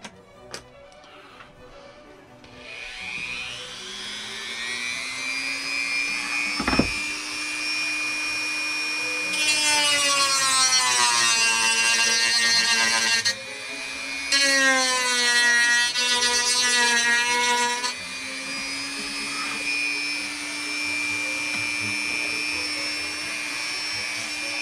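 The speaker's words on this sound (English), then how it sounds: "we need to cut this corner off and profile that a little bit with the sander, the Dremel" A Dremel spins up to a steady high whine while sanding and profiling the wood of an HMS Bounty model ship. The pitch climbs and wavers under load, with two louder rasping grinding passes against the wood, close and without talk.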